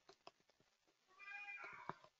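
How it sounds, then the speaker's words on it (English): A house cat meows faintly in the background, a drawn-out rising call following a few soft taps, with no one talking over it. "That's my cat, by the way."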